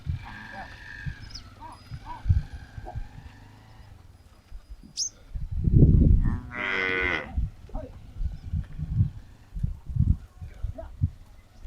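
Cattle on a dairy farm with a large herd of cows, one clear close moo rising mid-clip among softer lowing, other animal sounds, and a person talking throughout.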